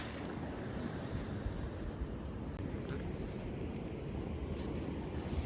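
Ocean surf at Polignano a Mare on Italy's coast rolls as a steady, faint wash of waves with wind buffeting the microphone, continuous and without speech.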